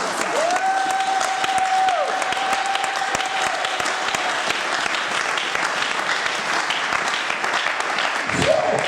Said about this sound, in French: Est-ce qu'on peut acclamer le nom du Seigneur?